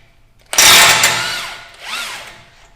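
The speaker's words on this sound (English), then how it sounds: "with a 35mm socket, remove the CV nut" An impact or power tool spins off the 35mm CV axle nut on a Toyota Tacoma, a loud close whine rising and then slowing, followed by a second shorter burst.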